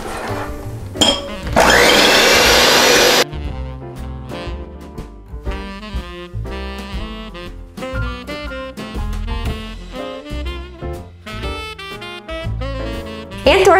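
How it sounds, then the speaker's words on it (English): An electric hand mixer beats egg whites for candied pecans in a loud, steady whir that lasts about a second and a half. Music follows. "I'm going to use my electric hand mixer to beat these until they're pretty stiff"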